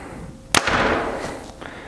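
Hoyt RX8 compound bow shooting a 400 grain arrow: one sharp, loud snap of the release, followed by a brief fading buzz with a faint second tick near the end.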